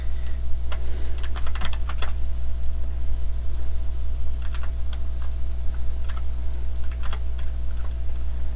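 Keys clatter on a computer keyboard in irregular bursts of clicks during a gaming session, steady over a constant low electrical hum with no talking.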